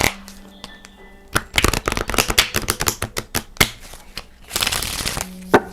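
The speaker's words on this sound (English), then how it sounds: "I'm going to take a couple of cards from this Mirror of Truth deck to elaborate this." A Mirror of Truth oracle card deck is shuffled in a burst of quick, crisp riffling snaps and flutters, loud and close, with a brief flurry of card slapping near the end.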